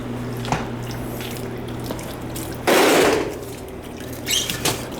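Water draining and dripping from a failed storage tank on a heating system in a large storage building, with a steady low hum underneath and a louder gush of liquid midway before settling back to faint drips.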